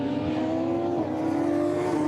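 A Radical race car howls past at Snetterton during a 2012 Radical UK Cup race, its steady high-pitched engine note loud and close, holding a sustained drone with a slight pitch shift as it passes, no voices over it.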